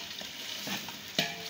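Finely chopped onions fry toward golden in a pan for chana pulao, a soft continuous sizzle with light stirring scrapes and one sharp clack near the end.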